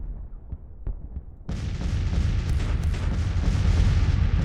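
Artillery fire in Grand Tactician: The Civil War, starting with a few scattered distant thumps before a continuous loud barrage of booming cannon fire kicks in and keeps rolling to the end.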